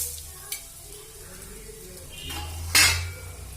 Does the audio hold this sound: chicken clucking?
no